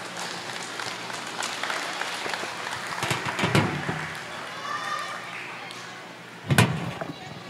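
Fairly quiet audience applause welcoming a guest speaker at a school moving-up and recognition day, scattered and uneven, with a few louder thumps and brief bursts of voices.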